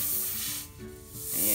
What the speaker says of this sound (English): Now, once we ream the hole, you should be able to take this